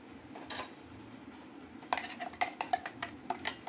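A spoon mixes green coriander chutney paste with a little salt and lemon juice in a bowl, giving an isolated clink, then a quick run of bright metallic taps and scrapes close by.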